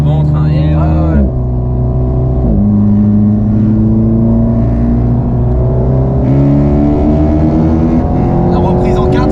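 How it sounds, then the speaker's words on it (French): Alpine sports car with a turbocharged engine drifting, the engine loud and close as it revs, drops off between shifts and climbs again in repeated surges, with turbo whoosh over the top. "tous ces bruits de turbo là, c'est énorme"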